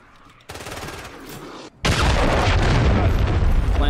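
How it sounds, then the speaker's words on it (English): A cruise missile strike in Call of Duty MW3 lands as a dense, sustained roar of explosive blasts and rumbling impacts, loud and continuous after a brief burst and short gap, with a voice faintly in the background. "Friendly cruise missile deployed."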